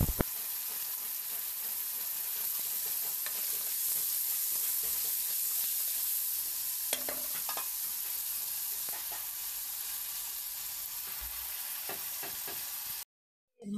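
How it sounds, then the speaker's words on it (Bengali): Potatoes frying in a pan with salt and turmeric after whole garam masala and five-spice tempering, a steady close sizzle throughout with occasional stirring clinks, cutting off at the end. "এরপর আলুটা দিয়ে নুন হলুদ দিয়ে আলুটাকে ভালো করে ভেজে নেব।"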